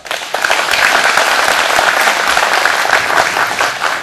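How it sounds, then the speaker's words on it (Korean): Sustained audience applause fills a ceremony marking the completion of a shared rice seedling-raising facility, steady and dense for about four seconds with no voices over it. "다시 한번 큰 박수 부탁드리겠습니다"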